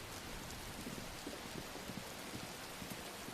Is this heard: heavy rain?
yes